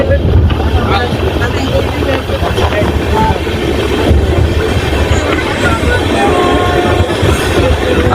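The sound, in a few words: Tebhaga Express train (LHB coaches) running, picking up speed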